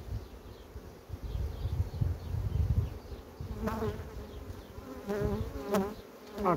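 Honey bees buzz steadily at an apiary during swarming season, a dense close hum that fills the whole stretch, with a few brief higher bursts toward the end.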